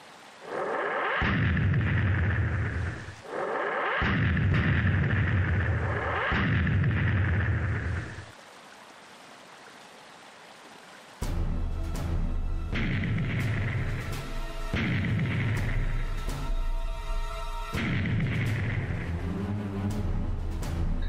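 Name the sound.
Veridian siege cannons firing, from a video game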